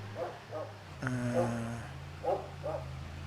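A dog in the farming game Farming Simulator 25 gives soft, distant barks at a steady pace over a constant low engine-like drone.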